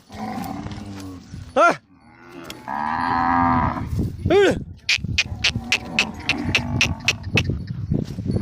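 Several cows in a large village herd of cows and buffaloes moo loudly and close by, one long low call after another, with people talking and general farmyard noise in the background.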